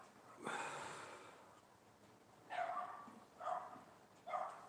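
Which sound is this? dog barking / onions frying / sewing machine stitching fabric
dog barking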